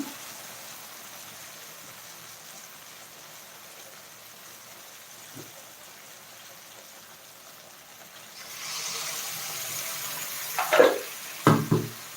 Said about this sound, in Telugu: ఆ నీళ్ళు కూడా అందులో వేసేస్తున్నాం